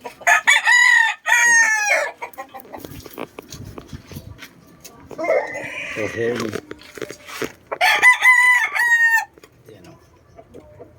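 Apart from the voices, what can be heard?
rooster crowing, quality chickens in neighbor's backyard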